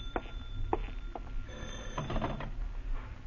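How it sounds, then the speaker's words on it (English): An old telephone rings in a radio mystery drama, its bell sounding in several short bursts, fairly faint and without speech. "the phone startles you"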